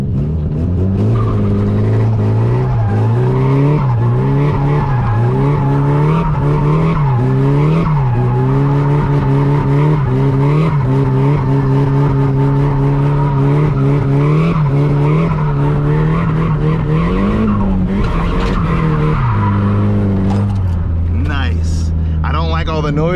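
A Nissan S14 with a welded differential revs hard doing donuts while tires skid and squeal continuously, loud and close, with a voice speaking over it now and then.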